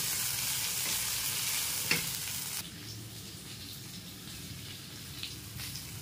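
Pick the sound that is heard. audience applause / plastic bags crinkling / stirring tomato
stirring tomato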